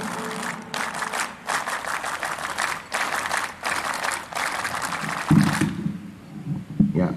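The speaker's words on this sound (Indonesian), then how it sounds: "2 kali tepuk pramuka" A group at a school scout camp performs the rhythmic scout clap (tepuk pramuka) twice, sharp bursts of collective clapping in a patterned rhythm, fairly close and loud, followed by a brief voice.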